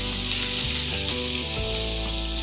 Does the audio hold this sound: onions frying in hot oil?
yes